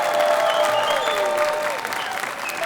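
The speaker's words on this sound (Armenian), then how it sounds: "բարձր ծափանենք տղերք ջան" A studio audience applauds Armenian champions, a dense, loud, continuous burst of many hands clapping that holds steady throughout with only a slight dip near the end.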